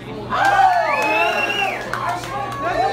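A concert crowd at Club Red cheers and whoops during a live show, a loud, close swell of yelling voices that holds for a couple of seconds and then tapers.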